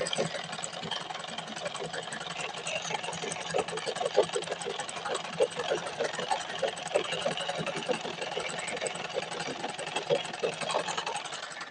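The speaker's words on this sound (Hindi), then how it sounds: "तो यहाँ पे हम एक सिलाई और लगा लेते हैं।" A sewing machine stitches a pajama seam in a quick, steady rhythmic chatter that runs throughout at moderate distance, fairly faint under a constant background hum.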